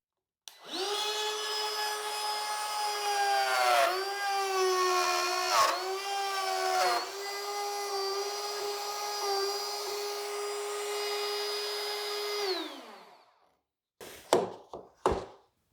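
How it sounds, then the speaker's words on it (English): Router fitted with a 1/4 inch upcut bit cutting a slot in wood: a loud high whine running steadily for about twelve seconds, dipping briefly as the bit moves back and forth, then spinning down, followed by a few short knocks. "So we've got our bit installed, our 1/4 inch upcut bit, and we're just gonna lower this with it on, go back and forth and cut that slot."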